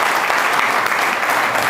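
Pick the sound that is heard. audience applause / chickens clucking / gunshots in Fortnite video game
audience applause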